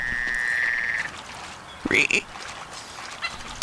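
Frog croaks from a Duck Dynasty video game, heard as a short tonal call and then a brief croaking burst. A voice is speaking over the game sounds.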